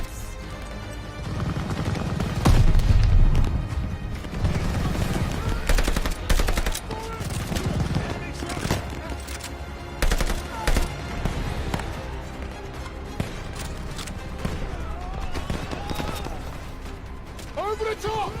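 Machine gun fire in the World War II shooter Call of Duty: Vanguard, a dense, sustained clatter of automatic bursts with explosions and crashes, while soldiers shout beneath the chaotic battle noise.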